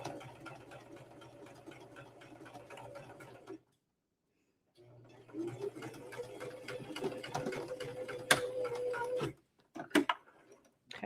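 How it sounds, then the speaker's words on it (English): A domestic sewing machine stitching fabric with a back tack, a steady close whirring run that stops briefly, resumes for several seconds, then ends with a few short bursts. "I'm going to back tack, and I'm just going to sew all the way over to the other mark."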